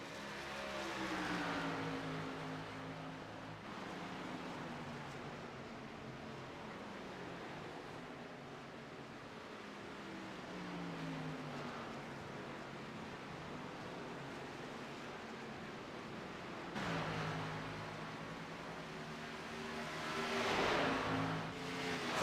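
Race cars lapping at Homestead in an MPI Series race, a continuous engine drone with rising and falling pitch as cars pass, swelling louder near the end.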